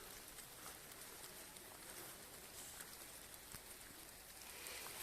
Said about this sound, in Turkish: aşırı yağmur yağdığı için fazla duramayacağım